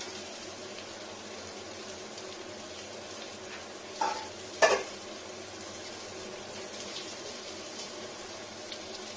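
Potatoes fry in oil left over from frying eggs, giving a steady, soft sizzle close by. Two brief utensil clanks break in about halfway through.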